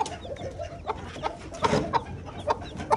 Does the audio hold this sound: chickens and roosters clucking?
yes